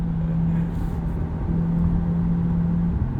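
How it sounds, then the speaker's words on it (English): A 2020 Chevrolet C8 Corvette Stingray V8 idles in neutral with a steady, loud low drone and a sustained engine tone, revved lightly from inside the cabin, with no talk. "you just pull both paddles, puts you into neutral, and you can give it a little bit of a rev"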